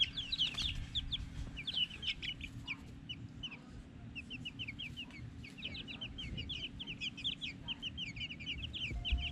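Hens clucking in a temporary backyard chicken run, many short overlapping clucks and calls continuing throughout, close and fairly busy over low outdoor rumble.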